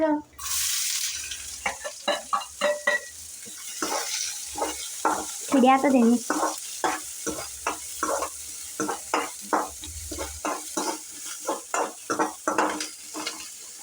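Chopped onion and coriander frying in a pan for gobi manchurian, stirred with a utensil that scrapes in a steady rhythm of close strokes over a soft sizzle, with a brief voice partway through.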